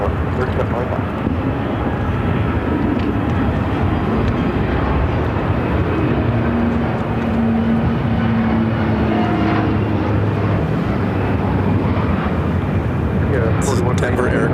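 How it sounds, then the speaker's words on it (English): Loud, steady engine roar of a Fairchild Swearingen SA-227 Metro propeller plane arriving at Phoenix airport, with a droning propeller hum that persists throughout under occasional speech. "This is Denver Air Connection, Flight 3101, coming in from Cortez on a Fairchild Swearingen SA-22 227 Metro."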